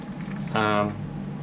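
A brief burst of hissing, sputtering coffee from a De'Longhi Magnifica Evo espresso machine, lasting under a second amid quiet room noise.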